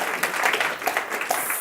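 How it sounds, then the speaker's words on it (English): Audience at a tech conference forum applauding, a short steady wash of many hands clapping at moderate loudness. "give yourselves a round of applause"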